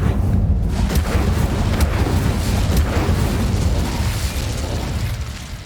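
Fiery roar of the Incendio fire spell in Hogwarts Legacy: a loud, sustained, rumbling blast that holds steady for several seconds and then gradually eases off.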